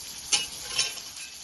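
Six lobster tails frying in a pan give a continuous close sizzle, broken by two short, brighter bursts of spatter or stirring about half a second apart, with no talk.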